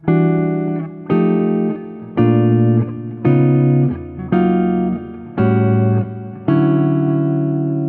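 A steady run of bright keyboard arpeggios and chords through three tonal centers, changing roughly every second as the harmony moves through several different keys.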